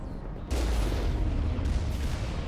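Turret fire in Mass Effect, a sudden loud burst of rapid gunfire that breaks in after a short lull and keeps going in a dense, close volley.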